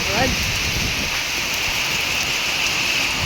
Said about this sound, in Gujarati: નીકળાને વરસાદ એટલો ચાલુ છે.